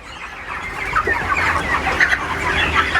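Broiler chickens on a poultry farm cluck in a dense, continuous chorus of overlapping calls, close and fairly loud, with no talking.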